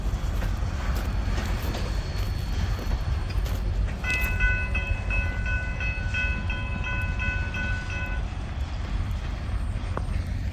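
Kiamichi Railroad train passing eastbound, a steady rumble of rail cars rolling by with a sustained horn blast partway through, heard from trackside.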